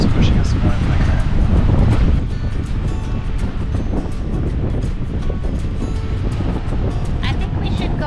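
Steady, loud wind buffets a boat cruising the Intracoastal Waterway, a continuous roar with gusty microphone rumble throughout, no voices over it.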